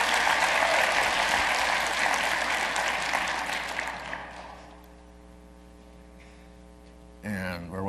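Loud applause from a conference audience at a Windows Sysinternals tech session, dense clapping that slowly thins and fades out, leaving a low hum before a voice resumes.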